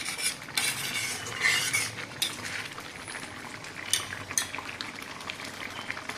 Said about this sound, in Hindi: इसमें डाल करके इसको अच्छी तरह से चला देते हैं।